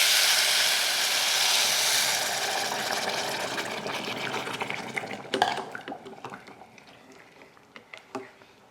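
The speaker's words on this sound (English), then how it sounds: "And then immediately add my 2 cups of hot water" Hot water rushes into a pot on the stove while rice cooks, a loud steady pour that tapers off into scattered metallic clinks and scrapes of a utensil against the pot.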